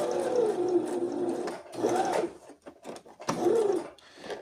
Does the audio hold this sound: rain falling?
no